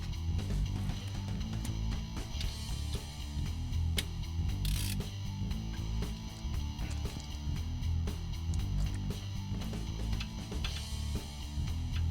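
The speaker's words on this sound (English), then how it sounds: "the spec says to torque the bottom bolts to 20 pounds" A wrench works on the lower shock absorber bolts of a 1974 Chevy Monte Carlo, giving steady mechanical ratcheting and clicking under a continuous low hum, with no talking.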